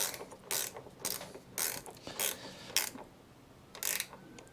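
A carburettor bowl nut being fitted and tightened during a fuel system job, heard as a handful of short, close metallic scraping and ratcheting bursts with quiet pauses between them.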